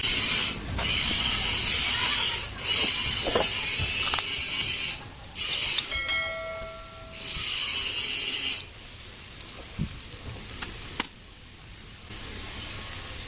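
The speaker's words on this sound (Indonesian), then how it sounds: "mula-mula kita akan buka nih plug." A ratchet wrench clicks in steady bursts as the spark plug is worked loose on a Modenas MR1 motorcycle that will not start, loud and close, followed by a few scattered metallic taps.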